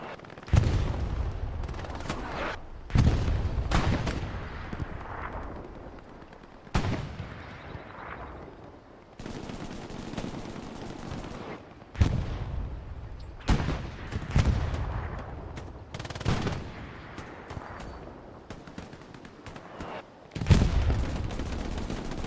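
Machine gun fire in a World War II shooter game: repeated bursts of rapid gunshots, some loud and close, others more distant, separated by short lulls and punctuated by heavier booms.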